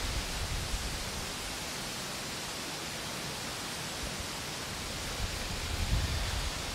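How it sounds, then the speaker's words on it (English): Strong wind blows outdoors at a rural off-grid cabin property in Maine, a constant broadband rushing roar with slight gusting swells near the end, with no voices. "today the wind is really whipping"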